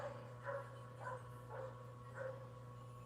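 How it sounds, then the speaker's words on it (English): A dog barks four times at an even pace, faint and distant, over a low steady hum with no talking. "You hear the dog?"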